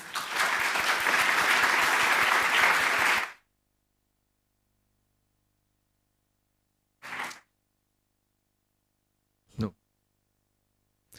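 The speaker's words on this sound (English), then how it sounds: "a big round of applause to our panelists, please" Sustained audience applause for a panel at a university conference, dense clapping for about three seconds, then it stops abruptly, leaving near silence broken by a couple of brief knocks.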